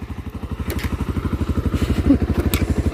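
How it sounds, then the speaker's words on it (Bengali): A new motorcycle runs close by, its engine chugging in a fast, even pulse of low thumps with some light clatter over it. "বাইকের ড্রাইভার দেখো নতুন বাইক চালাইতেছে"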